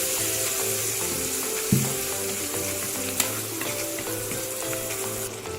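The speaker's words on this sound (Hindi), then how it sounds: "हम थोड़ा सा पानी डालते हैं।" A splash of water goes into a hot pan of chop suey stir-fry with soy sauce and vinegar, and a steady loud sizzle continues throughout with a brief sharper burst as the liquid hits.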